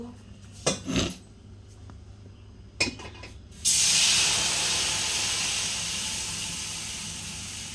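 Jaggery goes into a hot pan of fried fennel and fenugreek seeds for a plum pickle, setting off a sudden loud, steady sizzle that slowly fades, after a few clinks of utensils.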